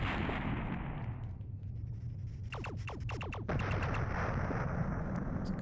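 Gunfire in the 3DO game Shockwave: rapid bursts of sharp shots over a constant engine-like roar, with a cluster of quick repeated blasts in the middle and more scattered shots afterward.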